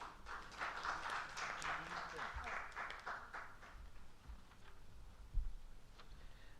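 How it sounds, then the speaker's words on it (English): Faint applause from an audience at a hematology medical conference in Bihar, a soft wash of clapping in the first half that thins out, with a brief low thump near the end. "Round of applause for sir, please."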